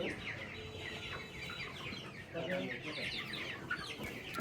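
Several chickens cluck and chirp together in a busy, continuous flock chatter, with a slightly louder burst partway through.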